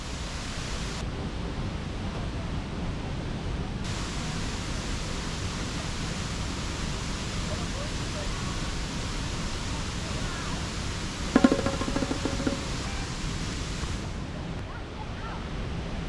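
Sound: waterfall near Ubud

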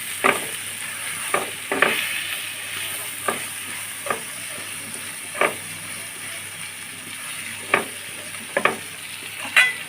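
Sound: frying and stirring soybean curry with spices in pan

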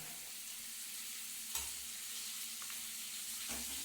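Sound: pointed gourd (potol) frying and stirred in hot oil

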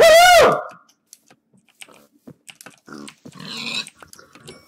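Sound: pigs grunting in video game Minecraft Crazy Craft

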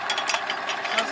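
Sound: tractor engine running

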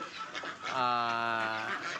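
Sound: Yi Liang ducks let out to play

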